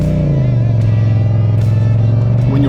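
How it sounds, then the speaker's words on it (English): A CFMoto CLC 450 bobber motorcycle engine runs steadily, loud and close, with a deep, even exhaust note holding constant throughout and no talking. "I like the sound of the engine."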